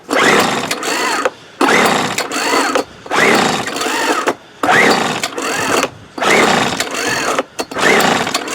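A 1997 Weed Eater BV 1800 24cc gas leaf blower runs loud and close in about seven surging bursts, each revving up and then dropping out briefly, as if the engine is struggling to keep running.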